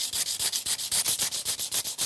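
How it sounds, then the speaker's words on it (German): Paint samples on an old lantern being sanded by hand with 400-grit sandpaper, a close, steady run of rhythmic back-and-forth rasping strokes, about seven per second, with no talk. "jetzt beginnt die Schleifarbeit. Also ich nehme jetzt die ersten Farbproben und beginne mit einer 400er Körnung."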